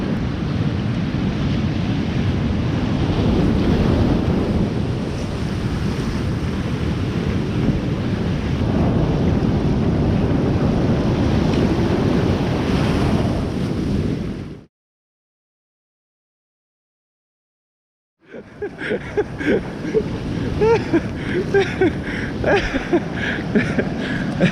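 Sea surf on a fishing shore, roaring steadily and loudly with heavy wind buffeting the microphone, then a few seconds of total silence before the wash and wind noise return.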